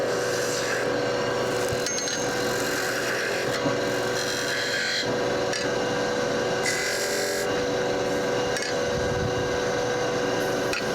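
A woodturning lathe takes a roughing cut on spinning wood, a continuous close, scraping, hissing tool noise with a steady hum beneath it and small shifts in texture as the gouge moves, with no talking.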